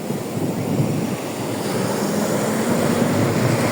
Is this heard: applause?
no